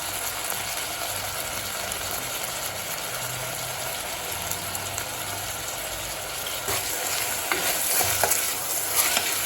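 Three tomatoes and salt frying in a pan for a tomato kadayal side dish, with a steady sizzle, stirring scrapes and clinks throughout, and no voices.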